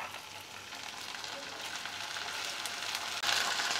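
Onion and ginger-garlic paste fry in a pan with a steady, soft sizzle that swells slightly louder toward the end, heard alone without voices.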